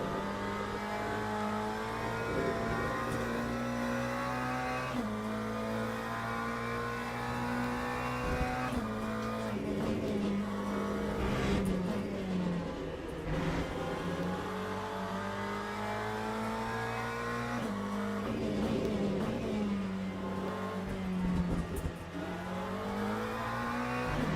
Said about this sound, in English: There goes Rarish in the hypercar